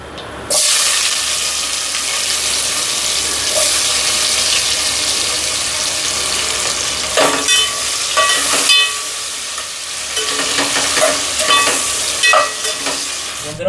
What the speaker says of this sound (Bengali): এবার আমি পেঁয়াজগুলো দিয়ে দেবো।